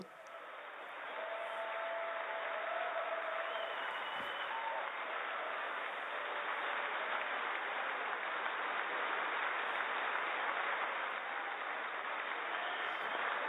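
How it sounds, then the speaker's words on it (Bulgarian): Sustained applause and ovation from a large chamber audience after Pelosi tears up the speech, a dense, steady roar of clapping that swells in and holds for over ten seconds. "Овациите, Пелоси с..."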